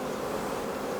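Honey bees around beehives make a steady, dense buzzing drone, continuous and moderately close with no pauses.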